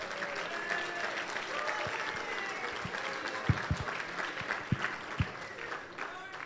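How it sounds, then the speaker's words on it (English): A banquet audience at an awards event gives sustained applause, a dense wash of clapping from many hands with a few louder individual claps standing out near the end, and faint murmuring underneath. "Give them a round of applause."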